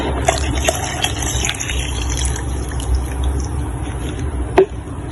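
Water pours into a homemade glass cleaner mix with a steady close trickle, broken by a few light taps and a sharper knock near the end, and no voices.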